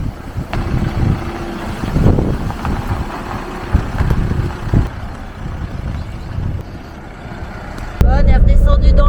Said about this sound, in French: C'est la tempête de vent.